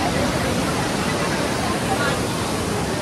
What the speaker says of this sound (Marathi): इथे लहान लहान वॉटरफॉल्स होते, इथे खूप जण खूप एन्जॉय करत होते त्या पाण्यामध्ये